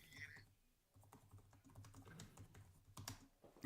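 Computer keyboard typing, a steady patter of soft key clicks at a modest distance, with low background hum and faint voice or room noise underneath.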